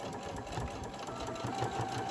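Walking-foot sewing machine top-stitching a zipper pouch, running steadily and fairly close in a continuous mechanical whir with a soft rapid needle rhythm, no voices over it.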